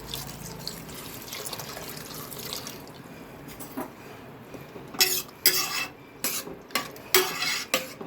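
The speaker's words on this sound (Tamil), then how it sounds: "இப்போ இதில் ஒரு சொம்பு தண்ணி விட்டுக்கலாம்." Water pours and splashes into a metal pot of tomato sambar, followed by several sharp clanks and scrapes of utensils against the pan, close and fairly loud.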